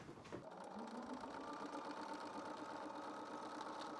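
A sewing machine runs continuously as fabric pieces for a blouse are chain-stitched, a fast steady mechanical whir and rattle after a brief start, close but quiet, with no voices.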